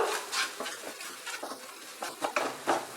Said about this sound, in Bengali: ভালো করে মশলাটাকে কষিয়ে নিলাম